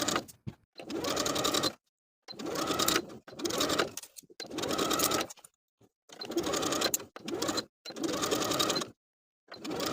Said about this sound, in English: I'm going to sew all the way around with a 3/8 inch seam allowance and finish the raw edges together